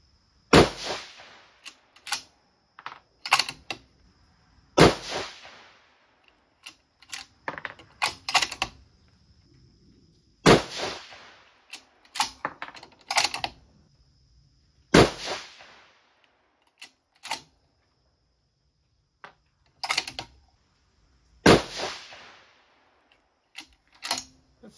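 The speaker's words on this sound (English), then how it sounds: "Now we'll do our 5-shot group over there on that funny looking target." A 6mm Dasher rifle fires a five-shot group, each sharp, loud crack standing alone with a short decaying echo, spaced several seconds apart, with quieter handling clicks and movement between shots.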